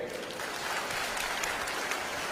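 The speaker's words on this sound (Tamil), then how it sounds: "பிஎஸ்சி நர்சிங் பையன் கேட்கறதுக்கு முதல்ல ஒரு கைத்தட்டல்" Steady applause fills a student career session, a continuous crowd of hands clapping for a BSc nursing student, even and moderately loud without voices.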